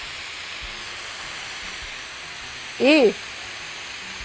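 Oil sizzles in a hot wok with a steady, broad hiss that holds through the whole stretch, and a short voice briefly cuts in near the end.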